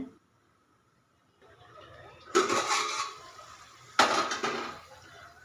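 Three cups of rice are washed in a pot with water for pulao: two loud splashing, sloshing bursts of water and grains stirred by hand, after a quiet start with a faint hiss.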